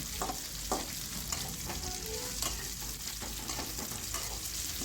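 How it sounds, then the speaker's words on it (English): Masala Maggi noodles fry and sizzle in a pan while being stirred continuously, giving a dense, steady crackling hiss with rhythmic scraping, close up and uninterrupted by speech. "We need to keep stirring so that it won't become bad."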